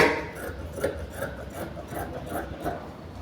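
Scissors cut through blouse fabric in a series of short, soft snipping and rustling strokes, close and fairly quiet, with no talking.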